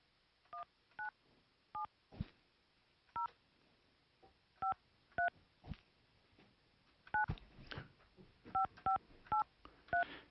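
A telephone number is dialed as a series of about fifteen short touch-tone beeps, spaced irregularly and some in quick runs, over quiet background noise.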